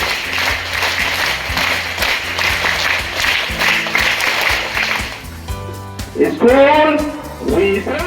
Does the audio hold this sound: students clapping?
yes